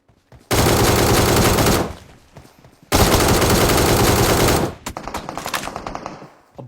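Two long bursts of rapid automatic gunfire from the battle royale game BGMI, loud and close, separated by a short pause, followed by scattered quieter shots and clatter.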